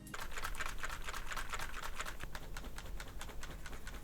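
A Roccat Vulcan TKL Pro tenkeyless keyboard being shaken firmly, giving a dense, steady clatter of light keycap rattle that runs evenly throughout at close range, with no voices.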